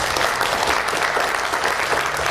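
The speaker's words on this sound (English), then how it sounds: "So round of applause for Connor," A room of people at a cannabis community gathering breaks into dense, steady applause for a speaker named Connor, sustained and fairly loud across the whole stretch with no voices on top.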